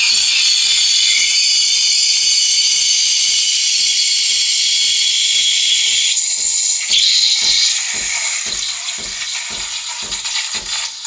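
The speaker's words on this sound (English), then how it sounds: "I've just put the tip of the steam arm just inside the milk, and you can hear that crackling noise" An espresso machine steam wand, its tip just inside a jug of milk, hisses loudly and steadily. Rapid, regular crackling pulses run beneath the hiss, and the tone shifts partway through as the wand's position changes.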